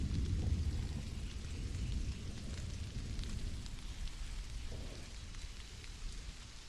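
Rain falls steadily on a world in Stranded: Alien Dawn, a soft, even hiss with a low rumbling undertone that stays constant throughout.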